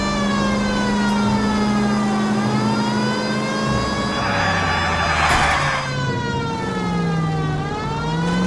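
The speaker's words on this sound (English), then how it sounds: "You know we've got a siren, Phelps." A loud wailing police car siren in the video game L.A. Noire, rising and falling in long sweeps over a rumbling engine, with a brief burst of noise partway through.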